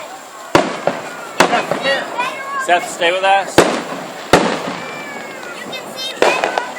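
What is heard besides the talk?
fireworks display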